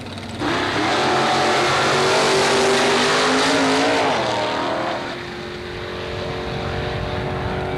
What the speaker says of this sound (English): Mick Mosley in the 48 Anglia panel powered by the 413 Wedge, Chrysler Wedge